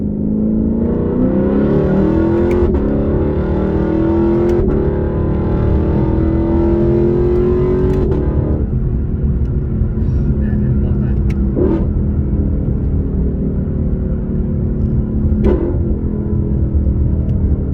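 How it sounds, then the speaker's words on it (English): A loud 2018 Lexus LC500 engine revs up and drops sharply several times through quick upshifts, over constant road rumble. "I also want you to hear some of the upshifts."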